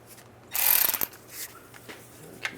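A ratchet tightens a bolt on the rear main seal cover of a 2007-2013 Chevy Silverado: a half-second burst of close, rapid metallic ratcheting, then a few faint isolated clicks in a quiet shop.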